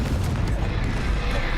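The Confringo blasting spell in Hogwarts Legacy sets off a steady, loud rumbling barrage of booms and rapid popping bursts that run together without a break.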